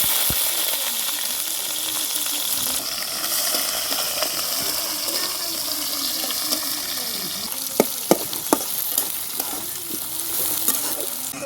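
Garlic cloves and three onions sizzle steadily in hot oil in a wok, with a spoon stirring and scraping through them and a few sharp clinks against the pan near the end.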